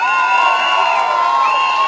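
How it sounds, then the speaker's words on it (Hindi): Audience at a Diwali celebration cheering and shouting continuously and loudly, a dense crowd roar with high excited voices and whoops rather than distinct claps. "एक बार जोरदार तालियां."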